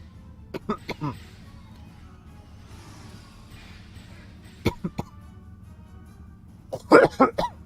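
Several sharp coughs, near and loud: a quick burst of three early, two more midway, then a harsher cluster of coughs near the end over a low background hum.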